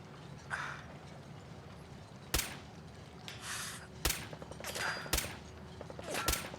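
Gunfire in the video game Fallout 4, a few sharp isolated shots spaced a second or more apart over a low background hum, fairly quiet with no talking.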